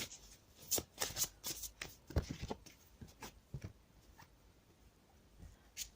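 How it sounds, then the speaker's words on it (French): Cards from an Archangel Gabriel oracle deck are shuffled and drawn during a tarot reading, with quiet papery riffles and slides in short bursts near the microphone, then a few fainter flicks toward the end. "Maintenant, je tire une carte complémentaire de l'oracle de l'archange Gabriel."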